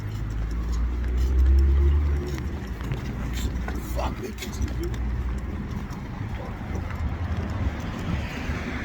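Steady Los Angeles street traffic rumble, with cars passing and a low engine drone, and a voice speaking over the noise.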